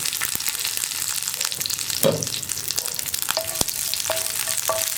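Mustard seeds splutter in hot oil with dried red chillies and curry leaves, a soft continuous sizzle broken by scattered sharp pops and crackles, close and alone.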